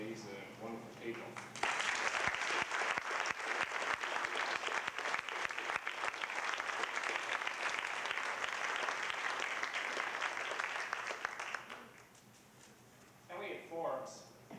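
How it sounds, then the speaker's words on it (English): Sustained audience round of applause at a Quincy House 25th anniversary celebration, dense and steady for about ten seconds, then fading out, with faint talk near the start and a voice returning at the end. "I hope you'll join me in a round of applause for our appreciation for all the efforts of these wonderful people"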